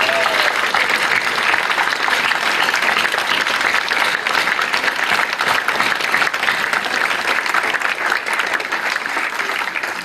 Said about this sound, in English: So please show your appreciation for all our staff. With a round of applause.